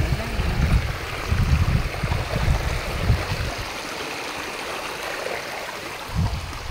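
Steady broadband rush of flowing water, like a nearby stream, with occasional low rumbles underneath; no voices.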